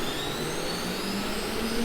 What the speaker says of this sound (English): So now the spindle started.